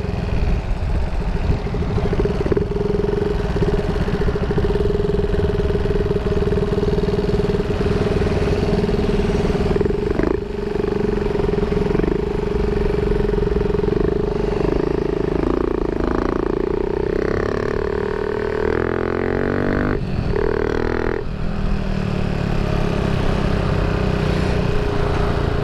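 Honda Raider 150 motorcycle fitted with a new 32mm throttle body, its engine running steadily and loud throughout with a droning idle, the pitch shifting as it is revved near the end.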